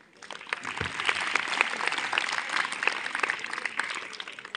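An audience at a Republic Day celebration at a government senior secondary school claps steadily, a thick patter of many hands that builds slightly and stays lively throughout.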